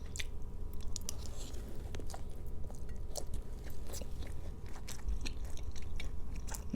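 Close, wet chewing of stir-fried basil chicken with a fried egg, with repeated squishy bites and soft crunches in an irregular rhythm, and no talk over it.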